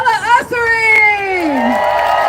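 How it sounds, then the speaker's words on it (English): A crowd at an outdoor protest rally cheers and whoops, with a rising voice-like yell standing out over the background of cheering and hubbub. "Everyone, a huge round of applause for Mrs. Novella"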